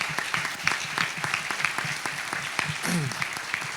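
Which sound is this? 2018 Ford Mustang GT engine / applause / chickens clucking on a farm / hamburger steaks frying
applause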